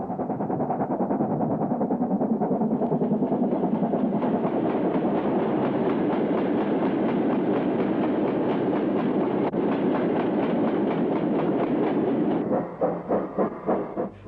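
British steam train running on rails, a loud steady rolling roar with rhythmic clickety-clack from the wheels, ending in a run of distinct beats as the carriages pass.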